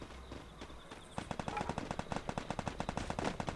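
Rapid automatic gunfire from the battle royale game Free Fire, a fast train of sharp, evenly spaced shots that starts after a quieter opening and keeps going steadily to the end, loud and close.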